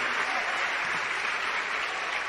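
A church congregation applauding steadily, a dense, sustained wash of clapping hands that stays loud and even throughout, with no pauses.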